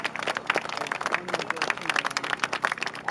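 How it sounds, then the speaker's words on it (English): A walk-event crowd applauds corporate sponsors with quick, scattered clapping that runs continuously, fairly close, mixed with some voices. "if everybody could please give them a round of applause"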